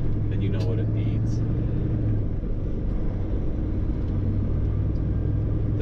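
A Peterbilt 389 heavy haul truck downshifts through its 18-speed transmission, heard from the cab as a loud, continuous low engine drone with shifting tones, and a short speech-like sound appears early on.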